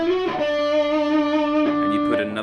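A distorted electric guitar plays a short run of a solo from its beginning, a few sustained bending notes, loud and close with no talking.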